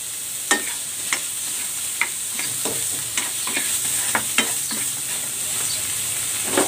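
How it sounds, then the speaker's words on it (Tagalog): Shrimp seasoned with salt and pepper is stir-fried in a pan under a steady sizzle, with sharp scraping and stirring strokes landing at irregular intervals about every half second to one second. "I-stir fry ko muna itong hipon. Season ko ito with salt"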